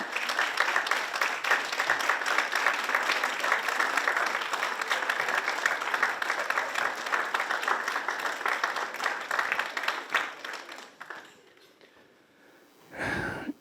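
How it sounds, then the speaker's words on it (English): Families at a Guilford County Sports Hall of Fame induction for a 1960s Little League team stand and applaud, a broad, sustained round of clapping that fades out near the eleven-second mark, leaving brief quiet and a final low rustle. "would you guys just stand up, clap, do something?"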